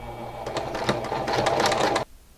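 Sewing machine stitching reflective tape onto a jacket, a fast steady whir with rapid needle clatter, close and loud, cutting off abruptly near the end.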